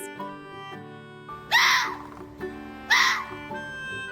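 Red fox calling over soft background music: two sharp, high, rasping screams about a second and a half apart, each short and harsh, standing out loudly above the gentle tune.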